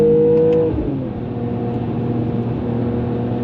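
Mercedes-AMG E53 (W213) with a fast-shifting torque-converter automatic, engine tone dropping sharply at a gear change and then settling into a steady, loud cabin drone on a busy bypass road.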